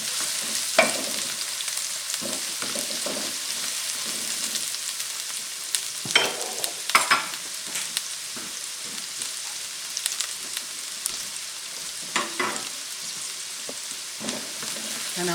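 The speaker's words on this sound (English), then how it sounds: "I'm going to let it fry until it is golden brown" Diced onions fry in hot oil for oil rice, giving a steady close sizzle throughout, broken by occasional clicks and scrapes from stirring. No one speaks.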